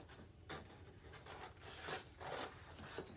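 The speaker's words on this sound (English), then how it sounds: "I take my roll and I cut it to the shape of the frame." Scissors snip through a roll of gritty sandpaper, trimming it to fit a frame for a pastel canvas, giving a series of close, dry rasping cuts at an uneven rhythm, moderately loud with no voices.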